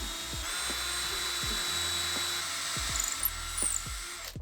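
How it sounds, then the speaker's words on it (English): A 6mm drill bit boring through a clamped jig while making a rolling top box, a steady close whine of the drill running continuously with slight pitch shifts and soft knocks underneath. "drilling everything through with a 6mm drill bit"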